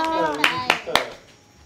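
A young girl claps her hands at a family surprise, three or four sharp claps in quick succession, close by, with people talking over them.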